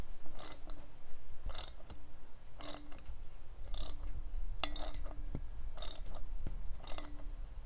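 A wrench ratchets a bearing install tool on a Harley Davidson wheel, giving seven evenly spaced bursts of clicking pawl noise, close and distinct.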